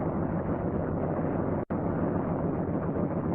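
A C-47 aircraft engine runs at about 1,000 RPM, a steady, dense low drone with one brief dropout partway through.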